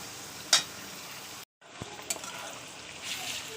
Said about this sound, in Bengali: পেঁয়াজটা একটু লাল করে ভেজে দেবো